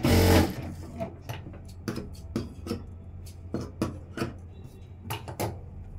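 Close sewing machine stitching a blouse, a rapid run of sharp mechanical clicks ticking at a fairly even pace over a low steady hum, after a brief loud rustle at the start.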